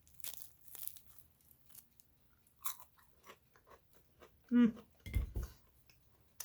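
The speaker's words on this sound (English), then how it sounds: "It's crunchy. It's crispy." Sharp, crisp crunches and crackles from a homemade biscuit being bitten and chewed close up, in scattered bursts with a brief voice in between.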